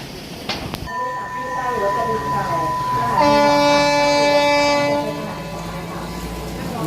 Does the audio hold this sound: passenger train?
yes